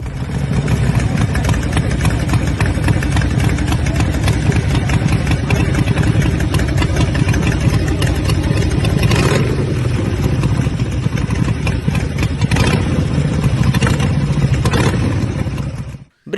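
A Brixton Cranwell 1200, a Chinese-built copy of the Triumph Bonneville T120 twin with a five-speed gearbox, runs steadily at close range with a continuous engine drone and slight throttle changes, then cuts off abruptly at the end.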